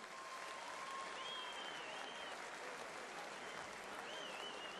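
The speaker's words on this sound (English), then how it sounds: "give them a round of applause for what was a great fight tonight" A boxing crowd applauds Joel Brunker and Reynaldo Belandres after their fight, a steady dense wash of clapping heard from a distance that holds unbroken throughout.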